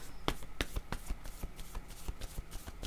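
Tarot cards being shuffled by hand, a quick run of crisp riffling snaps and flutters repeating at an even pace, close and fairly quiet, with faint speech in the background.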